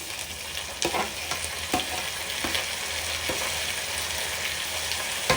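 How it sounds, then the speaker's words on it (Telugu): Tomato sauce is stirred into onions sautéing in a pan for a spicy fish curry, giving a steady sizzle with repeated clinks and scrapes of a spoon against the pan. "దీంట్లోనే ఇప్పుడు మనం ఇందాక కట్ చేసి పెట్టుకున్న టమాటో సాస్ యాడ్ చేద్దాం."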